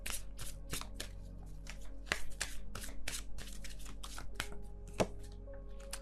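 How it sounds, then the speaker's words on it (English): A deck of tarot cards shuffled at an unhurried pace, producing a close run of crisp, repeated riffling and slapping bursts, with a steady low hum underneath. "I'm not shuffling very quickly or anything."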